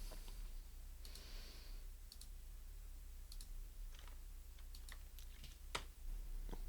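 Computer keyboard keys click faintly and sparsely, single taps and a few quick pairs spaced across several seconds over a low steady room hum, with no talking.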